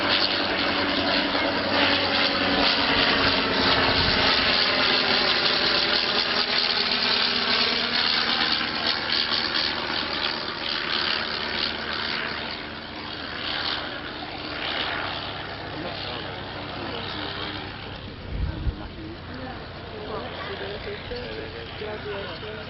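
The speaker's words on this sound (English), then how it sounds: "from an 80 horsepower Lorraine engine in the park pits" A vintage aeroplane powered by an 80 horsepower Lorraine engine runs at an Old Warden airfield display in windy conditions, a steady droning engine sound that slowly shifts in pitch as it passes, under continuous commentary.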